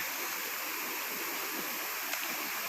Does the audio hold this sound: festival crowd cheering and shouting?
no